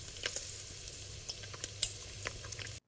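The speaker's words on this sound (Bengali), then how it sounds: "আমাদের চিকেন কচুরি আর এই চপগুলো ভাজা একসাথে চলছে" Chicken kachori and chicken-prawn chops fry together in hot oil, making a soft continuous sizzle with frequent small crackling pops, close and fairly quiet, with no talking.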